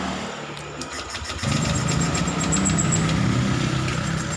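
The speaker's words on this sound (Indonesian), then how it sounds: "Oke, motornya nggak mau hidup." A Honda Beat Street motorcycle engine that won't start cranks close by, a brief quieter stretch followed by a steady loud churning from about halfway through.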